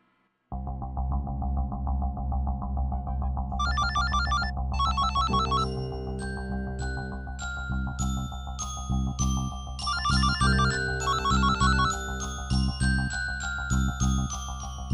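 A phone ringtone in a TV drama scene plays a repeating electronic melody of bright chiming tones over a steady backing, loud and continuous for the whole stretch with no voices.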